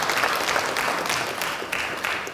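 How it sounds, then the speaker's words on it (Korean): Applause from a seated audience at an emergency caucus meeting of the Democratic Party of Korea's lawmakers, steady and fairly loud clapping sustained throughout without a break. "앉아 계신 분들 힘차게 박수 쳐야 될까요?"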